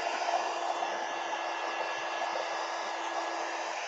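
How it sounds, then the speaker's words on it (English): Heat gun blowing to dry paint on textured paper, a steady broadband whooshing roar held at constant loudness throughout, close and with no voices. "Heat gun, gotta dry it."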